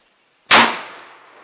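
A 350 Legend rifle fires a single 255 grain round over a chronograph: one sharp, loud crack after silence, decaying into a short ringing tail.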